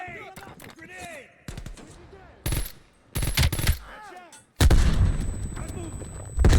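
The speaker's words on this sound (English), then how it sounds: "Grenade! Grenade!" In Call of Duty: Black Ops Cold War, a grenade explodes amid gunfire: sharp, close gunshots and bursts with pauses between them, then a heavy, loud blast with a trailing rumble near the end.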